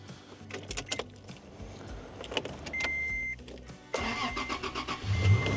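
A car engine cranks and catches at close range in wet, rainy conditions at a mountain lake campsite, preceded by keys jangling and clicks, then settles into a steady running hum.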